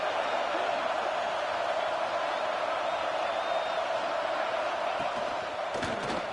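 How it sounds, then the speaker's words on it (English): Home crowd roaring in the college football video game CFB 26 during a Florida versus Miami game, a steady dense wall of stadium noise throughout with a brief burst of extra excitement near the end. "how nice is it to have the home crowd going absolutely bananas?"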